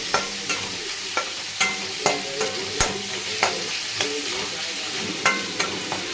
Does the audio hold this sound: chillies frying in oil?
yes